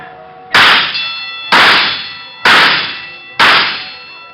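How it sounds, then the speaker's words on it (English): Four loud bell clangs ring out at a carnival midway shooting gallery, evenly spaced about a second apart, each sharp strike decaying in a brief metallic ring. "so we stopped at the shooting gallery"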